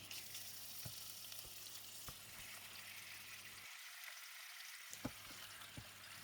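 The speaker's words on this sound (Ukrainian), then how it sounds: "викладаю кролика на розігріту сковорідку посоленою та поперченою стороною" Rabbit pieces sizzle steadily in hot oil in a pan, a constant crackling hiss with a few soft clicks and bumps.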